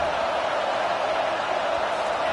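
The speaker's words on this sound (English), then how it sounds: "This crowd bringing the energy and noise early." Stadium crowd in a college football video game against Michigan, a steady, dense roar that holds at an even level throughout with no breaks.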